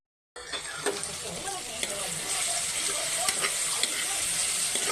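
Dried anchovies (dilis) sauté in a hot pan for ginisa upo with tomatoes, a bright continuous sizzle that starts abruptly and grows slightly louder, with occasional stirring clicks and scrapes.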